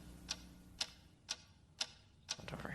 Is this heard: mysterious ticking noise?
yes